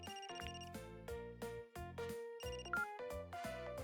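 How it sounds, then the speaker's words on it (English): A telephone rings in the video game Another Code, sounding as a melodic electronic ringtone that repeats in short phrases with brief gaps. It plays clearly and alone, with no talk over it. "Phone's ringing."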